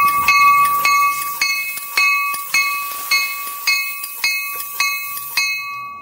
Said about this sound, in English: another option you can purchase is the air bell